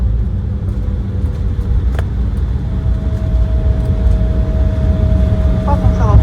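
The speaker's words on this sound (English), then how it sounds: "We are just landing." A passenger jet lands at LaGuardia, heard from inside the cabin as a loud, steady low roar with a thin tone rising partway through and a brief sharp click, while faint voices murmur beneath.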